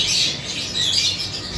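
Green opaline pale fallow aviary birds give shrill, overlapping squawks and chirps close by, a continuous bright chatter with no talk over it.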